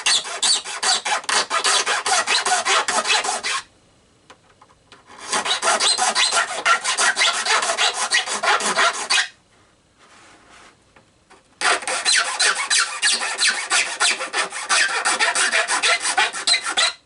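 Hand sanding on the fiberglass hull of a Deans Marine model boat kit gives three bursts of harsh, rapid rasping strokes, close and loud, separated by short pauses of near quiet.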